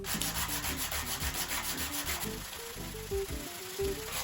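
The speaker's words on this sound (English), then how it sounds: "I also used sandpaper to remove the gloss finish from the back" Sandpaper strips the gloss finish from the back of a Red Hill GJO-10 gypsy jazz guitar, a loud, close, rhythmic rubbing in steady back-and-forth strokes that slows toward the end.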